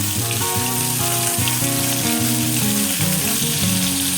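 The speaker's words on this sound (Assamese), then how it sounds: "মই এটা এটাকৈ মাছ গৰম তেলত দি লৈছোঁ। এনেকৈ মই মাছখিনি প্ৰথমতে এনেকৈ ফ্ৰাই কৰি ল'ম।" Parshe fish pieces fry steadily in hot oil for a fish curry with spinach, giving a loud, continuous close sizzle throughout with no voices.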